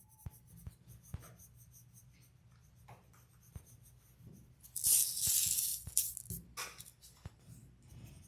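Colored pencil shading across paper, building up a rounded pear with several colors: soft, steady scratchy strokes close by, with a few sharp taps and a louder, brighter burst of rapid strokes in the middle. No talking.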